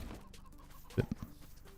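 A chicken in the video game Enshrouded gives a couple of short, clipped clucks, brief and fairly close over a soft steady game ambience.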